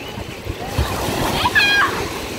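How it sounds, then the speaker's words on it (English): Ocean waves wash and splash on a beach during a family beach day, a continuous broadband rush with small splashes, with people talking close by over it. "the waves getting you"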